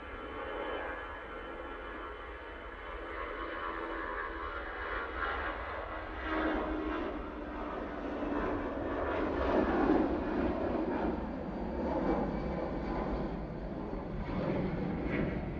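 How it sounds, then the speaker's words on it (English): An EasyJet Airbus A320ceo rolls down the runway for takeoff at Manchester Airport, its engine roar swelling and pulsing as it builds in loudness, heard alone with no voices. "EasyJet now on the roll, using their A320 CEO."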